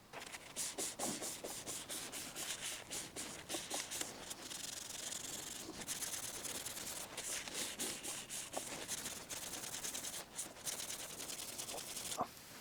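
A handmade wooden box built from scraps is rubbed down with 400 grit and wax in close, quiet strokes, a rhythmic swishing and scuffing that repeats steadily without speech.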